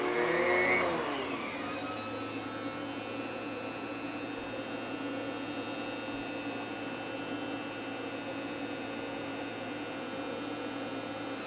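A shop chip collection system discharging outside through the wall hums and roars continuously, its motor spinning up at the start and then settling into a steady, loud drone with no speech.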